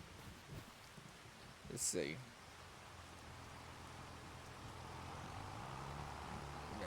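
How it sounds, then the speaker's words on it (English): Steady rain falls across a muddy plowed field, a soft continuous hiss that grows slightly heavier toward the end, with a brief louder clatter near the start and someone speaking a few words. "We'll wait till the rain stops."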